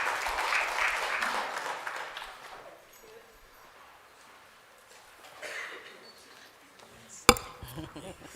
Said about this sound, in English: May we give a big round of applause as she comes on the stage